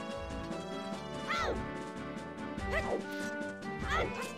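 A dog in The Legend of Zelda: Majora's Mask video game barks three times at roughly even intervals over continuous layered game music.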